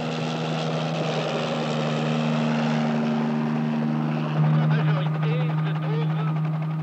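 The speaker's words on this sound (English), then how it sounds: "Captain Cousteau lifts off Calypso's helicopter pad to evaluate the navigability of the fast-changing seas ahead." A helicopter lifts off from the helicopter pad aboard the research ship Calypso in Antarctic seas, giving a steady droning engine and rotor hum that holds its pitch and then shifts slightly lower partway through.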